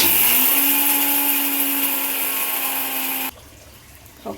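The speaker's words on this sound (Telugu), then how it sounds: "మిక్సీ చేసేసుకుందాం" A kitchen mixer grinder whirs loudly and steadily as it grinds peanuts, sesame seeds, dried coconut and whole garam masala into a paste, then stops abruptly, leaving a faint quiet room.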